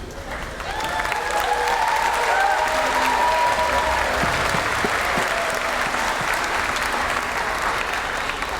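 A large audience at a middle school eighth grade advancement ceremony applauds steadily as the graduating students file out, a dense, continuous wash of clapping with a faint crowd murmur underneath.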